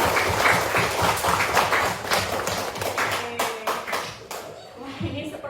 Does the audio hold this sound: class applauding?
yes